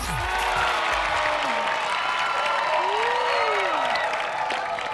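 Steady applause from an audience, dense clapping throughout, with some cheering and a voice faintly over it.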